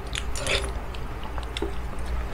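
Close, moist chewing of dinuguan, a pork blood stew with chunks of congealed blood, heard alone as soft squishy bites and mastication in a steady rhythm.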